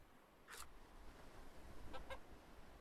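A hen in the point-and-click game The Hand of Glory gives a couple of short, faint clucks over a low, quiet background.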